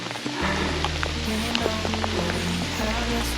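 Steady rain falling on an exposed coastal hiking path between Porlock and Lynmouth, a continuous close hiss with scattered drop impacts, while a low hum runs underneath and faint voice sounds come through.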